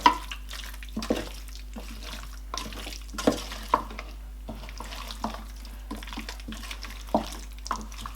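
Nigerian nkwobi of spicy cow foot being stirred by hand in a pot after Maggi seasoning goes in, a series of irregular wet clicks and scrapes over a quiet background, near and soft.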